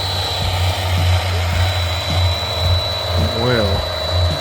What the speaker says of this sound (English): This is Leroy's oil priming tool.